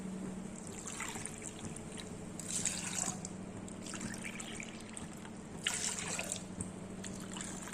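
Water trickles and splashes steadily into a pot for dal curry, with a few louder bursts of pouring, close by and without talking.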